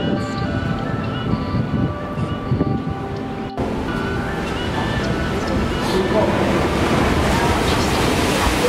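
Ocean surf at Mile Rock Beach in San Francisco, a steady loud rushing wash of waves mixed with wind buffeting the microphone, continuous throughout.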